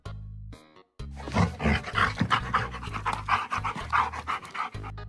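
A dog in a video game pants rapidly and rhythmically, loud and close, after a brief low rumble at the start.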